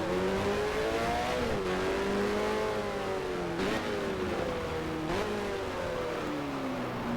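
Several 1973-era Formula 1 race cars in the F1 Challenge video game howl around the Monaco street circuit, a steady layered engine whine with pitch dips and rises as the cars shift and pass in a close train.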